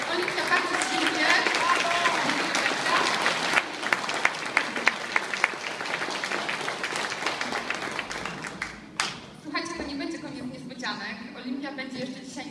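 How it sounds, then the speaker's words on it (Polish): Audience applause at a company anniversary stage event: loud, dense clapping for about eight seconds with a few sharp claps standing out, then fading as a voice begins speaking near the end. "ogromne brawa"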